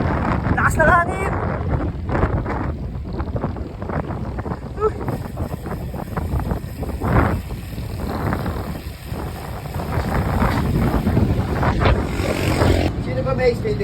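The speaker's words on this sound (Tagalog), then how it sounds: "Lakas na hangin!" Strong wind buffets the microphone in a steady low roar, with people talking and shouting over it throughout.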